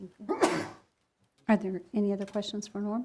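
A single short sneeze bursts out during a city council meeting, loud and close, followed by a brief pause and then someone speaking.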